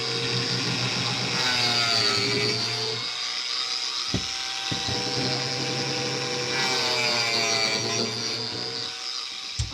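A power tool cuts through a piece of plywood in a workshop with a loud, steady, high-pitched whine under load that runs almost continuously, broken by two short dips and sharp knocks partway through.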